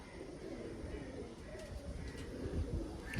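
Pigeons coo in soft, low, burbling phrases amid a noisy loft, the throaty calls fairly faint and partly masked by broadband background rumble, with no talking.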